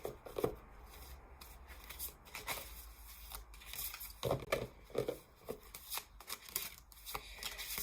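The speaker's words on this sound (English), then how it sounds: "I'm just giving them a good shuffle because I haven't actually used this deck in ages" A deck of oracle cards being shuffled by hand in short, uneven bursts of papery riffling and slapping, fairly quiet and close, with no talking.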